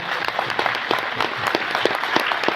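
An audience gives steady applause, with individual claps standing out within a moderately dense clatter of hands that carries evenly to the end.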